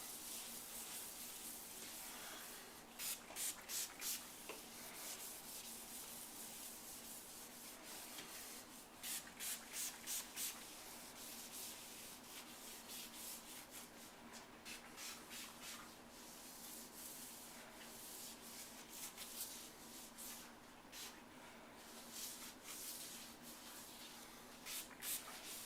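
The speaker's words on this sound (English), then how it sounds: "Make sure when you're doing the edges you roll and get the edges very well" A roller spreads granite sealer along cut and polished stone edges, a faint soft rubbing swish that comes in short repeated passes over a quiet background.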